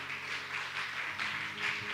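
Church congregation clapping steadily together, a soft, fairly distant wash of hand claps with rhythmic pulses, heard alone without talk.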